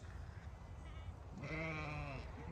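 Sheep or goats, including young ones, bleat on a hilly Australian farm, a single clear bleat rising over faint background noise at moderate distance.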